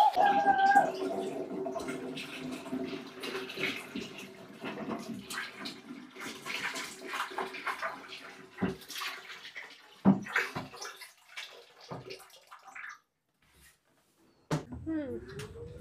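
Water is drained out of a tub at home, sloshing and splashing with knocks and clatters, ending in a brief gurgle, while people talk throughout.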